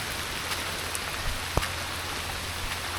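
Steady rain patters across a surface at a lakeside campsite with a dense, even hiss, a few louder drops and a brief thud standing out, no voices.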